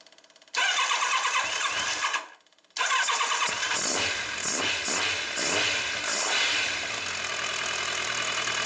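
A Kawasaki ZZR1100 D motorcycle engine, cold and with a noisy fuel pump, cranks briefly, cuts out, then catches and fires up into a loud, rough, sputtering idle that keeps running.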